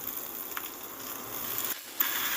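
Slit green chillies drop into hot fish oil and sizzle in a steady, fairly close hiss, with a brief dip and a small clatter near the end, and no talk.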